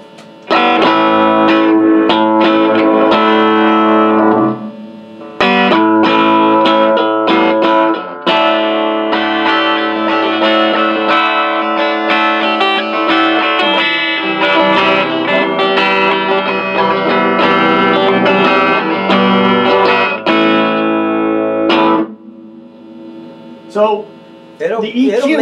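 An electric guitar rings out through a Peavey amp drenched in reverb, chords sustaining and washing into a long tail, with brief pauses between phrases.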